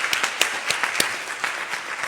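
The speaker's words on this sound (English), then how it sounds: "I think that deserves a round of applause." An audience at a church worship service applauds, a steady wash of many hands clapping at close range for a couple of seconds, with sharp individual claps standing out.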